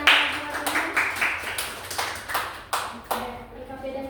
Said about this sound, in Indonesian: Oke, tepuk tangan untuk kawan kita yang masing-masing.